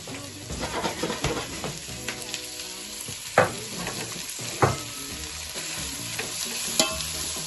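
Vegetables, Scotch bonnet pepper and pimento seeds frying for escovich fish, a close, steady sizzle broken by a few sharp stirring clatters and taps, with no voices.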